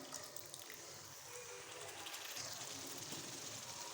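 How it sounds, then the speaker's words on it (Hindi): A little water is poured into a masala while cooking moong dal, a soft, steady hiss of running liquid that continues quietly for a few seconds. "अब हम थोड़ा सा पानी ऐड करेंगे"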